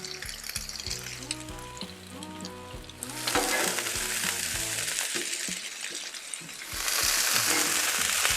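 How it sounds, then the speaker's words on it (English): Bacon pieces and onions fry on a grill with a steady sizzle under scraping and tapping of a utensil, and the frying hiss swells louder partway through and again near the end. "we're going to heat up a few pieces of our bacon here."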